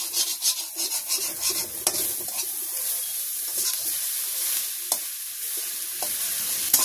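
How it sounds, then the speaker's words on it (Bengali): Fried onion and garlic stirred in a pan over steady, loud sizzling, with soft rhythmic scraping strokes at first and a few sharp clicks of the utensil against the pan. "পেঁয়াজ রসুনটা ভাজি হয়ে গেছে, আমি এখন মিশাই দেবো।"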